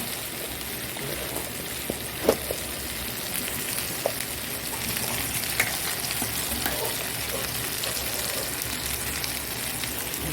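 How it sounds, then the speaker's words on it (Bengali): Spices with garam masala frying in a pan, a continuous hissing sizzle close up with occasional light knocks and scrapes of stirring, moderately loud and steady throughout. "এটা একটু গরম মশলা দিয়ে দিই একবারে ভেজে ভেজে"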